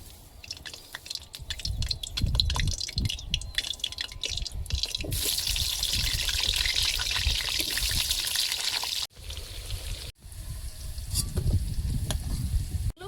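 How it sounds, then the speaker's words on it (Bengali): Potatoes fry in oil in a pot over an outdoor wood fire, ahead of a meat curry, giving a steady, fairly loud sizzle with stirring scrapes. A brief dip breaks it near the end, and no one speaks. "এবার মাংসের তরকারি বসাবো, আলুগুলো ভেজে নেব।"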